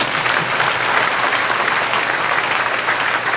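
Loud, dense applause from a concert audience for a choir and its conductor at an art song gala, an even wash of many clapping hands holding steady throughout.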